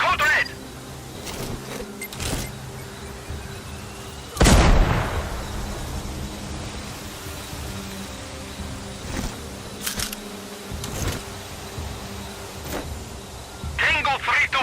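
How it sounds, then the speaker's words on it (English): An explosion goes off in Sniper Ghost Warrior Contracts 2 with a single sharp, heavy blast partway through, set over steady ambient noise, scattered cracks and voices talking. "I heard an explosion."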